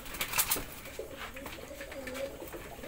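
Pigeons coo softly in low, wavering phrases on a rooftop pigeon farm, with a brief burst of brighter bird calls and rustling at the start and steady faint background noise throughout.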